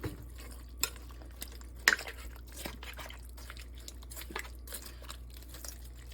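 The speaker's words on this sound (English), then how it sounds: "And then we're gonna get us a stir here." A spoon stirs black pepper into French onion chicken in a slow cooker, giving soft scattered scrapes and clinks with a louder knock partway through, quiet and close with a low background hum.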